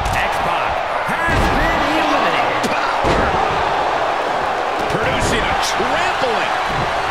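Repeated thudding slams from knee strikes in a wrestling video game, heard over a roaring arena crowd while commentators talk throughout.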